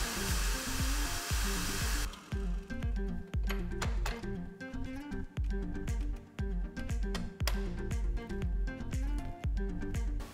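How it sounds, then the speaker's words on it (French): An electric stand mixer runs at maximum speed whipping meringue for macarons, a steady loud whirring drone with rhythmic pulsing beats of the whisk, close up and alone. "on va relancer la machine au maximum une dernière fois et là vous allez vraiment monter la meringue au maximum"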